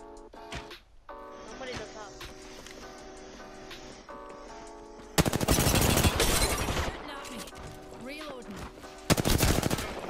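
Bursts of automatic gunfire rattle loudly in a video game arena match, two long sustained volleys separated by quieter stretches of scattered shots and game sounds, with players talking over the action.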